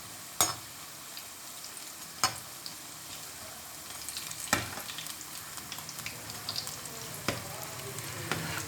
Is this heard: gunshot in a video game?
no